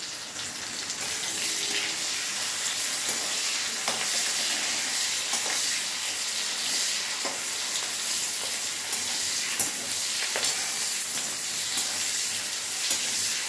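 Capsicum frying in a pan for chili fish, a steady broadband sizzle running the whole time with occasional crackles and stirring clicks, close and fairly loud, no voices.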